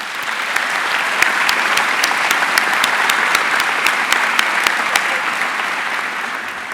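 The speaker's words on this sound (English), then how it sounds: "So give yourselves a round of applause." Graduates at a kinesiology commencement ceremony give sustained, even applause, a dense crowd of hands clapping with a few sharper nearby claps standing out.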